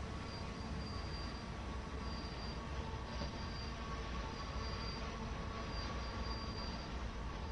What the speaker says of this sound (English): I don't like the sound of the brakes on this train.